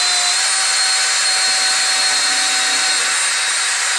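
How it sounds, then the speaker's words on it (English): A power drill stripping coaxial cable whines at a steady high pitch, running continuously up close without pause. "you want to drill until the centered pin of the cable is pointed with 3 exposed copper"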